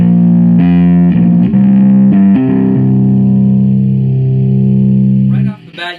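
Distorted electric bass notes ring out loud and close through a Positive Grid Spark Mini amp with no pedals, a few held low tones with shifting pitch, ending in a brief burst of hiss.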